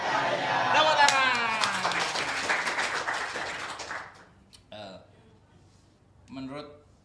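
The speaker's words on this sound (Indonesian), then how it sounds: "Tepuk tangan luar biasa." Audience applause fills a Javanese arts talk show studio, a dense burst of clapping for about four seconds, then it fades as a host's voice talks in short phrases.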